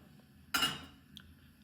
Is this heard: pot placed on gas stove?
yes